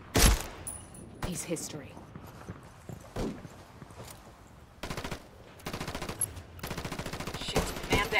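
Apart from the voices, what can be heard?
gunfire in Ghost Recon Wildlands video game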